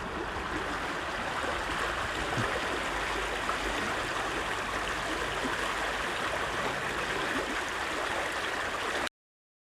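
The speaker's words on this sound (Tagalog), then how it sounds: "May magandang batis dito eh." A flowing stream in Germany rushes steadily in a broad, even wash of water noise, moderately soft and unbroken for about nine seconds before cutting off.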